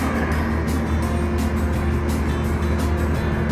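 Trucks on a highway between Bangkok and Chiang Mai being overtaken by a cyclist on a singlespeed bike: a steady, loud roar of engines and tyres with rushing wind, continuous throughout and without talk.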